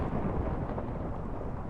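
Explosion spell in the Naruto ShinobiCraft Minecraft mod, a low rumbling blast that stays dense and steady for under two seconds, with no voices over it.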